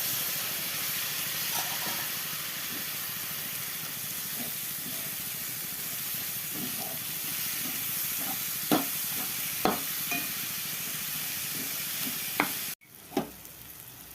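Finely chopped bitter gourd fries in a pan, making a continuous loud sizzle and hiss with a few sharp clinks of a utensil stirring. The sizzle cuts off abruptly near the end, followed by a faint knock.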